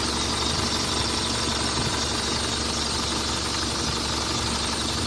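A car engine idling steadily, a continuous low rumble with a faint rhythmic knock, close and unchanging throughout.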